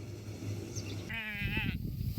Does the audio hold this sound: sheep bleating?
yes